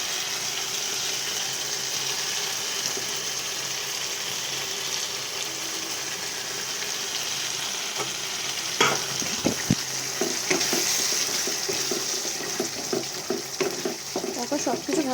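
Beaten sour yogurt is poured into spices frying in a pan for yogurt prawns and stirred in, a soft steady sizzle that swells into louder splutters and scraping strokes partway through.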